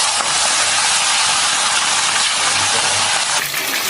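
Marinated chicken pieces sizzle loudly in hot oil in a wok, a dense continuous crackling hiss close up and steady for the whole few seconds, with no talking.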